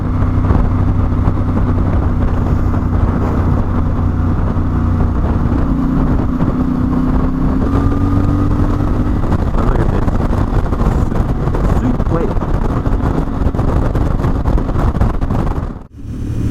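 CFMOTO 450MT motorcycle riding at speed, its engine drone buried under loud, constant rushing wind buffeting the helmet microphone, steady throughout before a brief dip near the end.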